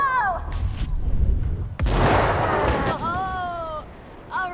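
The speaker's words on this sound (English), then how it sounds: "East side for the next explosion!" A Dead Island 2 game explosion booms out as one loud, broad blast lasting about a second, following shouted voices and game sounds, with whistling tones and voices returning afterward.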